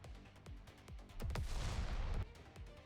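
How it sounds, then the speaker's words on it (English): Explosions rumble inside a bunker in the video game NIKKE: several quick booms go off, then a heavier, sustained roaring blast swells for about a second before fading back to quieter rumbling. "A massive tremor shakes the ground, followed by explosions rumbling from within the bunker."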